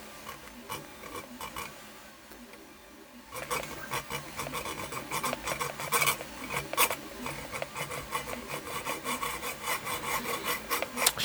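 A small blade saws through a soft copper antenna element for a Meshtastic radio rebuild, producing quiet, close, scratchy rasping strokes in an uneven rhythm that grow louder and denser after a short pause.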